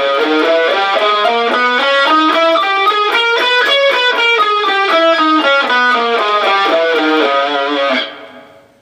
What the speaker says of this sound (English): The fourth mode is called Dorian Sharp 4,